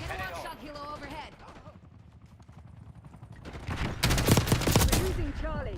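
Kilo 141 assault rifle fire in Call of Duty multiplayer, a dense rapid burst of shots building near the end, with game voice lines and speech over it.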